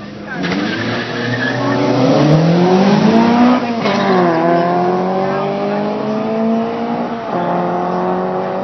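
Car engine running and revving on a road, rising and falling in pitch through several strong accelerating sweeps, loud and close, with voices talking over it.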